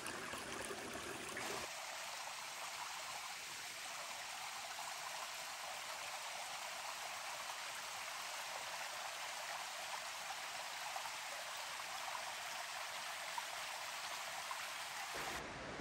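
A mountain stream beside the Appalachian Trail rushes and splashes in a steady, even flow, close and unbroken, with no voices.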